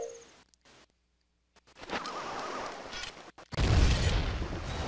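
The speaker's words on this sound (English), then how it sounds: "pull out a bomb, or better yet, your bomb mask" A bomb mask blows up in the video game The Legend of Zelda: Majora's Mask with a deep, booming blast. It bursts in after a short quiet stretch and some softer game sounds, then rumbles loudly and fills the mix.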